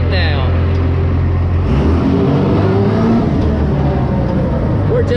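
A monster truck engine runs loud and close, its low rumble rising as it is shifted into first gear; someone talks over the engine.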